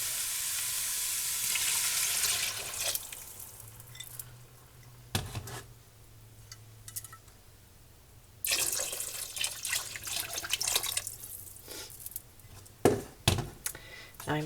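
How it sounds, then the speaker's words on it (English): Turkey stew being stirred in a pot with broth poured in, bursts of splashing liquid and rushing pour alternating with quieter stirring and scraping, close by. "stir that about, and then add our broth"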